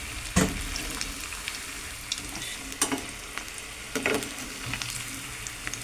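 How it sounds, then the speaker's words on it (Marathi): Alu vadi pieces deep frying in hot oil, a soft steady sizzle with occasional louder crackles and bubbling pops, close by and without talk. "तेल डीप फ्राय करून टाकले बघा वाड्या सगळ्या"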